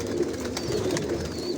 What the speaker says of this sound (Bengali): এগুলো সব বিদেশি কবুতর